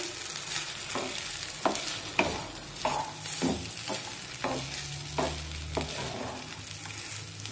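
Cooked semolina being turned over with a spatula in a covered pan, with soft repeated scraping and stirring strokes and a light sizzle, close and steady, with no talking.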